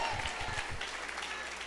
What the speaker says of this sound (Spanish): dele un aplauso al Señor si usted adora a Jesucristo